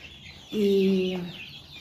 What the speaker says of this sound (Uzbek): Bu yerdagi jo'jalar qarib 2 oylik.